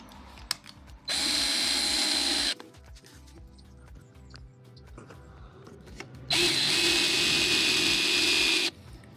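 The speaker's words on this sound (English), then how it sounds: "I'm going to drill a bigger hole in the middle" An electric drill bores a hole through a VW Sharan dashboard panel, whirring loudly in two long bursts of a few seconds each, with quieter handling clatter in the gaps between them.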